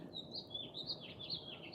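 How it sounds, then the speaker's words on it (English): Birds sing in a quick series of high, bright chirps and warbles, repeated several times over a low background hush and heard faintly, as if from some distance. "birdsong is lovely"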